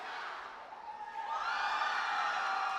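Students at a national robotics competition, DD Robocon 2025 at IIT Delhi, cheer for their teams. A distant crowd roar swells and grows louder halfway through, then holds as a sustained wash of cheering.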